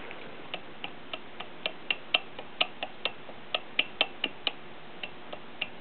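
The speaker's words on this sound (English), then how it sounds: "how much clicking you get from loaded to basically backlash here in my spider and" Sharp metallic clicks from backlash in a differential's spider and axle gears, about twenty irregular ticks over six seconds, close and fairly quiet with no talking.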